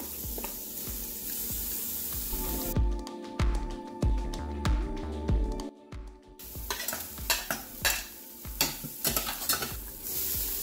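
Garlic hits hot oil with mustard seeds in a pan for aloo gobi, setting off a loud, close, continuous sizzle and popping, with rapid crackles and stirring clatter throughout and no talking.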